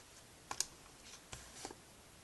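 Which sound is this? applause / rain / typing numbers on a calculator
typing numbers on a calculator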